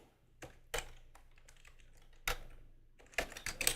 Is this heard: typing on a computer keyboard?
yes